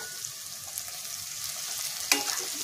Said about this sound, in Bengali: আর এর মধ্যে আমি একটু লঙ্কাটাও ভেজে নেব